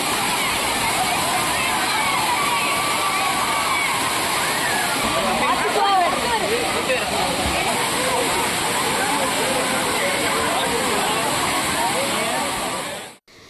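Thirparappu waterfall in Kanyakumari crowded with bathing tourists: a constant loud roar of falling water with splashing and a wash of crowd voices over it, unbroken for about thirteen seconds.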